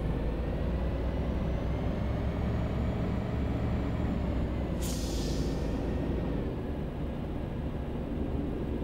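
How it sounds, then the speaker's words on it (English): A steady bus engine drones and hums evenly while the vehicle drives a night route through Hamburg in a city-bus simulator game, with one brief hiss partway through. "Certainly sounds nice as a uh, as a bus."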